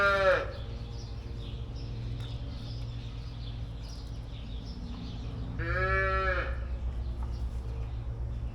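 Dry dairy cows being moved into a cattle trailer on a farm let out two loud, close moos, one at the start and another later, over a low steady engine hum.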